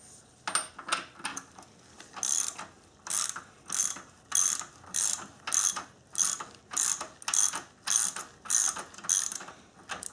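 A hand ratchet works a bolt loose on a floor jack in a shop, sharp rapid clicking bursts repeated in a steady back-and-forth rhythm, close and alone.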